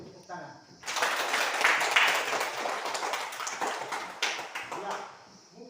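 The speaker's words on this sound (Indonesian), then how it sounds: "Mari kita beri tepuk tangan." A classroom group applauds, a dense burst of clapping that starts abruptly after a quiet moment, swells, and tapers off over several seconds.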